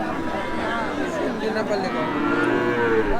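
A Sindhi-Nepali cross cow lows at a busy Bangladeshi cattle market, its moo drawn out over a steady hubbub of crowd noise and nearby talk.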